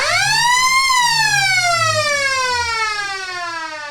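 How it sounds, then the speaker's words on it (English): A loud, long siren sounds at the start of an Australian football league match, East Point versus Redan in Ballarat, rising briefly then holding and slowly falling in pitch for several seconds, with faint crowd noise beneath. "The siren will... You won't miss this."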